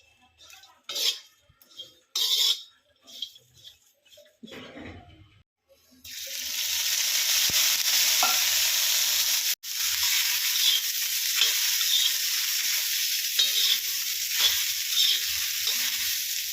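Finely cut okra roasting in a pan with a little oil for bendi palya. A few seconds of clattering and handling come first, then a loud, steady, close sizzle takes over with occasional stirring scrapes.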